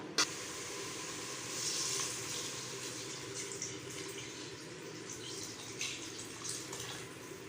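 Water pours steadily into a biryani pot, making a continuous close splashing and filling rush that rises slightly near the start and carries on evenly throughout.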